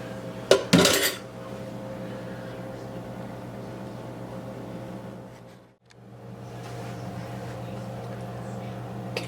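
Metal utensil scraping a skillet after cooking hamburger pie filling, a few sharp clattering scrapes near the start, then a steady low kitchen hum with a brief dip.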